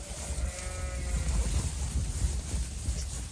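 A sheep bleats in a wavering call early on during lambing, over steady low rumbling and handling noise nearby.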